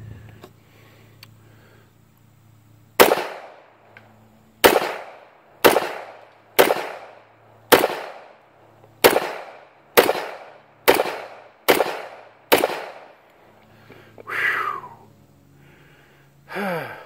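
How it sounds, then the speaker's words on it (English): A high-capacity 1911 pistol fires a string of about ten loud, sharp shots at an outdoor range, spaced roughly one second apart, including a weak squib load, followed by softer breathy sounds. "That was a squib."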